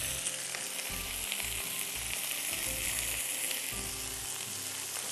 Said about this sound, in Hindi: मीनवाइल प्याज में हम चॉप किया हुआ लहसुन डालेंगे